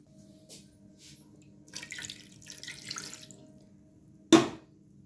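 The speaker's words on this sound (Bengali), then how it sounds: "আর একটু সামান্য জল দেব।" Water is poured into lentils in a pressure cooker: a brief trickle and splashing in the first half, then one sharp louder splash near the end, with a low steady hum in the background.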